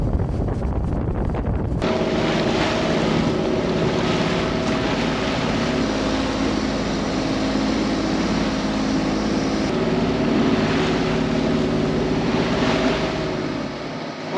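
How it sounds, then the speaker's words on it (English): A sailboat motoring under engine on open water near Annapolis Harbor, heading into the wind, with a steady continuous engine drone and heavy wind rush over the microphone throughout. "I would be head to wind most of the way, so there would be no sailing, just motoring."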